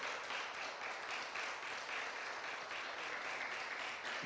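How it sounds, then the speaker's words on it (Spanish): A church congregation claps and applauds together in sustained, dense applause, steady and fairly distant, with no voices standing out. "Denle un fuerte aplauso al Señor con todo su corazón."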